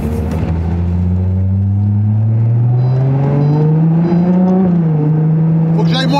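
A Ferrari Monza SP engine drones loudly while driving, its pitch climbing steadily as it accelerates, then dipping and settling, with heavy wind rush throughout.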